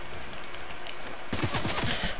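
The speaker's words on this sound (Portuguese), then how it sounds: "explosão!" A loud explosion bursts out in the Fortnite video game partway through, followed by a rapid series of sharp blasts after quieter game background.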